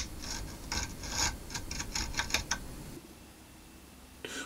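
A round hand file rasps along the flat edge of a steel scraper in a run of short, regular strokes over the first half, then stops, leaving a quiet room with one faint tap near the end.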